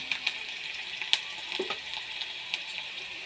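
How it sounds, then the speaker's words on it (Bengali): Onions frying in oil in a pan, a soft, steady sizzle with faint crackles and a few light utensil taps, close by and fairly quiet. "ভালো করে একটু লাল লাল করে ভেজে নেব পেঁয়াজটা।"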